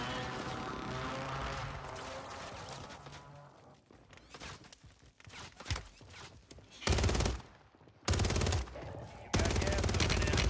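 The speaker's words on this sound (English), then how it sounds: "Oh, that's you shooting me." Warzone gunfire on Rebirth Island: loud bursts of rapid automatic shots, the last few seconds dominated by heavy sustained firing, earlier stretches busier with mixed game sounds and quieter gaps.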